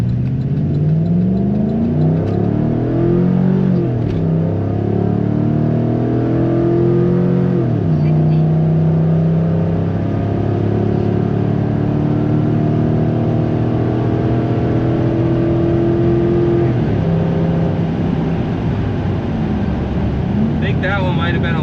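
A car on an E85 flex-fuel Diablo tune launches hard with traction control and StabiliTrak switched off, its engine note climbing steadily through the revs with shift breaks, loud and close, while a voice talks over it.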